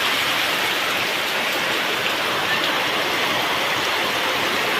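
Heavy monsoon rain in the Konkan pours down in a dense, unbroken hiss, loud and close, drumming evenly on surfaces with no voices.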